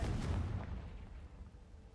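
A Confringo spell blasts in Hogwarts Legacy, a loud booming burst with a heavy low rumble that decays into a fading rumbling tail over about two seconds, with no voices.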